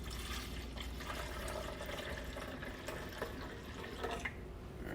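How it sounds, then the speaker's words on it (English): Apple cider vinegar pours into a measuring cup, a faint, steady liquid trickle and splash heard close up, with no talking. "We're going to utilize 1 cup of apple cider vinegar. Put that into a measuring cup."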